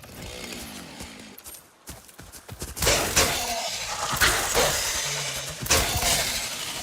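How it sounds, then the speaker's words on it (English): A chainsaw in the video game Satisfactory revs in loud, close bursts, with gaps between them and a sustained roar building toward the end; no one speaks. "Can I fight this guy with my chainsaw?"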